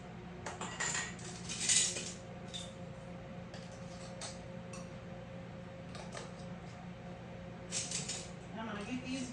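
Metal bands being screwed onto glass canning jars for peaches in simple syrup, heard as close clinks, taps and scraping rattles in scattered bursts over a quiet fan-like hum, with someone speaking softly at times.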